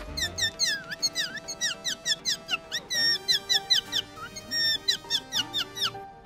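A boy imitates a parrot with his voice, a rapid series of squeaky, chirping calls in quick bursts, close and fairly clear, without talk.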